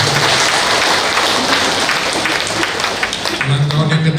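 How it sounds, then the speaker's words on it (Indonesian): A crowd at a church Mass celebrating the Gelora community's third anniversary claps steadily throughout, a dense wash of applause with faint voices mixed in. "Tepuk tangan untuk Gelora."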